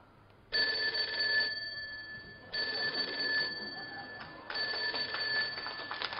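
Telephone ringing as a call is placed to a mooncake shop, with three long metallic trilling rings separated by short pauses, moderately loud and alone.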